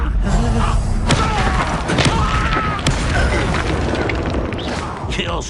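A fiery spell cast in Hogwarts Legacy erupts as a loud burst, with booming thuds and crackling impacts layered over dense game combat noise, repeated hits landing throughout.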